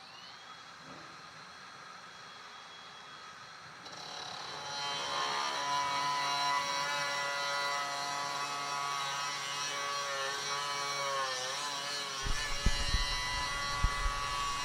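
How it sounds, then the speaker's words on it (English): A grinder cuts across a plastic part of a Tucktec folding kayak, starting as a quieter whine, then a loud, sustained high buzzing with shifting pitch, and ending with a few knocks and bumps. "But I'm going to be using a grinder because it's easy."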